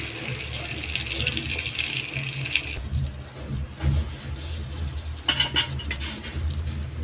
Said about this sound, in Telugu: మిక్సీలో నీళ్ళు వేసి మొత్తం ఇట్లేసి